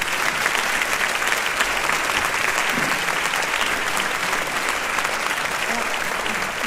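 An audience claps loudly and steadily at the close of a talk by perfumer Francis Kurkdjian, a dense, even wall of applause lasting throughout with a faint murmur of voices beneath.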